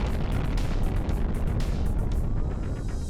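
An atomic explosion in the sandbox game People Playground: a sustained, loud, roaring rumble with dense low-end noise and a string of crackling bursts, fading slightly toward the end.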